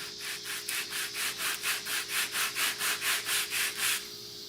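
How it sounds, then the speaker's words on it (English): Wood being sanded by hand for a scale P-51 model aircraft rudder modification, a steady run of about fourteen even rasping back-and-forth strokes, close and clear with no talking. "We're just going to sand this really nicely."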